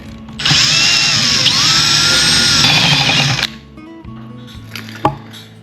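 A 5/8 drill bit bores a hole through the bottom of a plastic pencil holder, with a loud, steady whine for about three seconds before it stops, followed by a few handling clunks.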